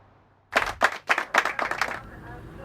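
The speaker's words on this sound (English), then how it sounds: "Captain F.J. Mangutt and June applaud Leo on a successful first case" Short burst of clapping from two people in a game scene, six or so distinct claps starting after a quiet moment and trailing off after about a second and a half.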